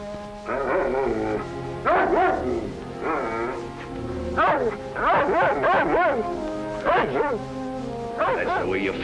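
A dog gives repeated yips and barks in close bursts, mixed with a voice speaking over it in an old 1940s film scene.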